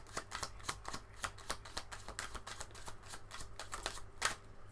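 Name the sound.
shuffling and pulling tarot cards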